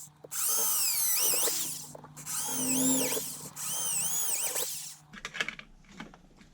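A power drill bores a 4mm screw hole in three loud, whining bursts with rising and falling pitch, each lasting about a second, followed by a few light clicks and knocks at close range.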